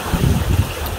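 Ocean waves around a 33 ft sailboat on a rough Atlantic crossing, a close, broad rushing wash of water with wind noise for about a second.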